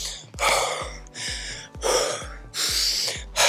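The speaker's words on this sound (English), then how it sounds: "How I'm breathing right now? I'm out of breath." A man out of breath after soccer training takes heavy, loud gasping breaths close to the microphone in a steady rhythm of about six breaths, with no talk.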